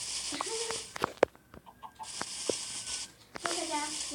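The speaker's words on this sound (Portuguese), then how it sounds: "Uma galinha colocou um ovo." Chicken in a video game clucking after laying an egg, several sharp clucks and squawks in the first half-second to few seconds, mixed with other game sounds and bursts of hissing noise, fairly close.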